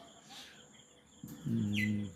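Faint bird chirps over a quiet outdoor background heard from a house balcony after summer rain, then a louder, brief burst of calls toward the end.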